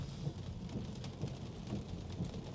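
Rain falling on a Tesla car driving through Michigan suburbs, heard from inside as a steady, soft patter and hiss. Faint low rumbling road noise sits underneath, and no one speaks.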